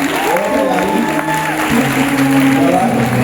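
Audience applause at a tribute ceremony, steady clapping from a crowd that holds an even level throughout, with a voice speaking over it.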